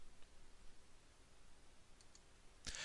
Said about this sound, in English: So again, I'm right clicking and turning the grid on.